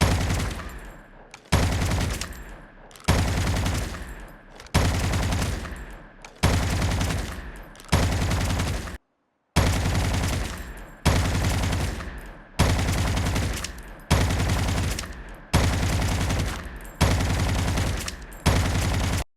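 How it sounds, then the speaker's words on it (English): Gunfire from the mobile shooter game COD Mobile comes in repeated bursts, each about a second long, separated by short pauses and a longer gap near the middle. The shots are loud and close. "when you tap on fire button, then bullets will come out without wasting time of scope opening animation"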